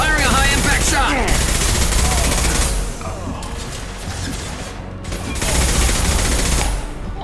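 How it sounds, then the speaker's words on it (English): Rapid gunfire in Mass Effect 2 from a high-impact weapon, with dense loud bursts of shots filling the first few seconds, a dip to quieter clattering combat noise, then another heavy volley near the end. "Firing a high-impact shot!"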